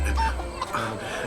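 A chicken at a wedding household gives a short burst of clucks, close and fairly loud, lasting only a moment.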